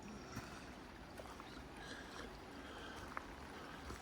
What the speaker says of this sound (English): we got a little brook crossing here